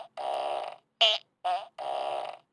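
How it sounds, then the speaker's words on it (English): Yellow setting on a novelty farting toy: four separate squelchy, buzzing fart noises, two longer blasts around two short sputtering ones, loud and close with silence between them. "Okay, this is the yellow fart."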